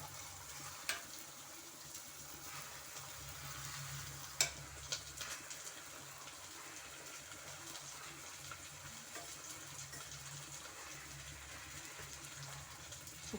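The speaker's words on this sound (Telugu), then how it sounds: "మునగాకైతే ఇట్లా వేగుతుంది." Drumstick leaves fry in a pan with a soft, continuous sizzle and occasional light stirring clicks, fairly quiet and heard alone without talk.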